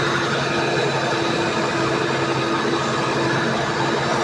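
A solar-powered flour mill (chakki) runs with a steady, even mechanical hum and whir. The tone stays constant throughout, with no change in pitch and no voices.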